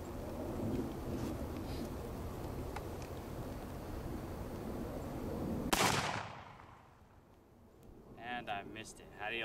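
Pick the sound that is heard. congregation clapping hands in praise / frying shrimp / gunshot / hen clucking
gunshot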